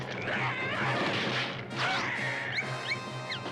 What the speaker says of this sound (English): who smashes through the glass roof and into the elevator